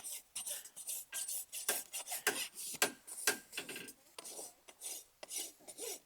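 A farrier works a rasp across a retired horse's hoof, forward dressing it to correct distortions, producing a close, steady series of rough scraping strokes in an uneven rhythm with no talking.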